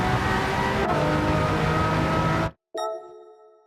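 A JGTC race car at Suzuka in Gran Turismo roars at full throttle, a loud, steady engine drone that cuts out abruptly near the end, then returns with a higher, cleaner whine after the gear change.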